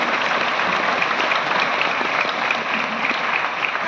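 An audience at a national award ceremony in Vigyan Bhawan, New Delhi, gives sustained, loud applause to welcome an award recipient, an even wash of clapping throughout.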